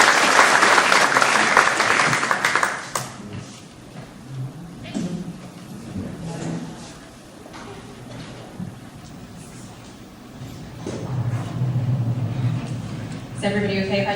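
Audience in a Texas lecture hall bursts into loud applause welcoming a speaker on border security, the clapping dense for about three seconds, then fading into murmurs and shuffling, with a brief voice and renewed movement near the end.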